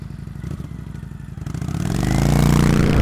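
Harley-Davidson Pan America 1250 Special motorcycle riding off-road on gravel, with a loud, rising engine roar over clattering and scraping from the loose surface.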